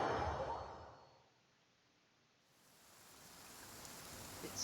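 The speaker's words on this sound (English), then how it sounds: "It's still raining." Steady soft hiss of rainfall in Genshin Impact, fading quieter midway then building back to a constant wash, with no voices.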